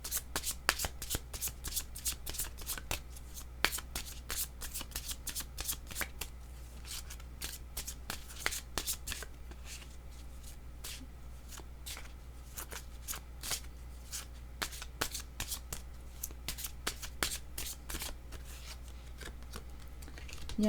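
Tarot cards are shuffled by hand in rapid bursts of crisp riffling and flicking, close and fairly quiet, pausing briefly between runs.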